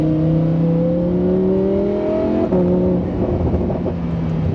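A Lamborghini Huracan engine revs upward in Corsa mode, then drops sharply at a quick gear change before climbing again, loud and close.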